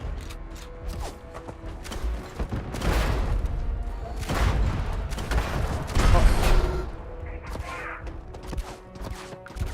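Enemy gunfire in Starfield rattles in repeated bursts and thuds, mixed with booms and mechanical game sounds, fairly loud and steady throughout.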